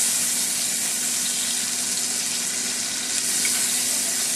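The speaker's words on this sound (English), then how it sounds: "go ahead and add our onions and mushrooms. And we're just going to kind of saute these until they get fairly tender." Onions and mushrooms sauté in a pan, giving a steady, close sizzle with a faint hum underneath that does not change from start to finish.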